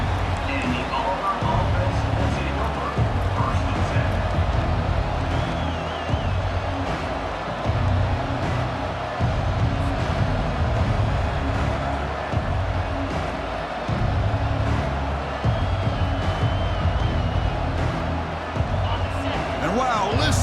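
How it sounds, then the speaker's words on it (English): Dense, steady roar of a packed college football stadium crowd in EA Sports College Football 25, a loud continuous wash of cheering and babble that swells slightly during a kick return, with commentary voices over it. "listen to this crowd noise. This stadium is vibrating"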